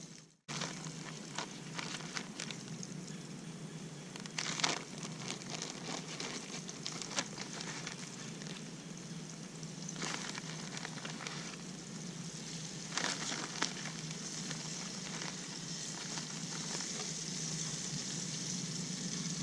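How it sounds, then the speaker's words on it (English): Catfish pieces fry in a pan of hot oil with a steady, faint sizzle and crackle, broken by occasional louder pops and spits, with no voices. "do not take everything out of the frying pan when you're frying, because the heat will surge"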